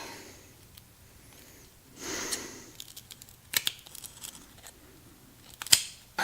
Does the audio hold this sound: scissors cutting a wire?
yes